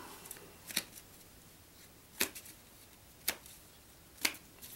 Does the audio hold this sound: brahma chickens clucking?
no